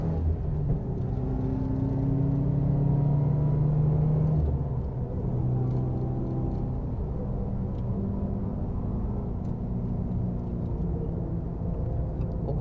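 A car on a racetrack takes a hairpin in third gear, its engine holding a steady low droning rumble close by for the whole stretch, with a slight easing in pitch partway through and no sharp revving.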